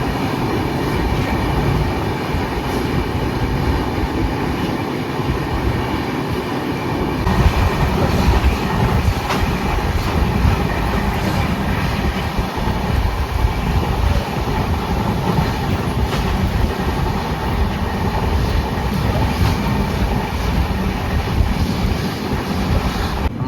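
An old electric passenger train passes near Ramagundam station, heard from the Kerala Express. A loud, sustained rumble and clatter of wheels on rails continues throughout, with no voices.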